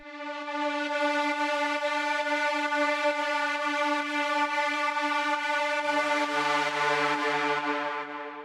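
Synth strings pad from a techno track, built in Wavetable, sustaining a steady chord with a faint pulsing rhythm, shifting to a lower chord near the end, played alone.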